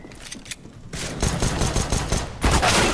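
Rapid bursts of gunfire from the video game CS:GO, including a suppressed MP5-SD, come as dense crackling volleys with a brief gap, then a loud final burst, with no talk over them.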